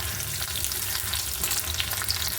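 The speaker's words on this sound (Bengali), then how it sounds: "এবার দিলাম আমি একটু পেঁয়াজটা একটু লাল লাল করে ভেজে নেব।" Onions fry in hot mustard oil with whole garam masala for a raw banana kofta curry, giving a steady, close, dense sizzle that crackles without a break and has no talk over it.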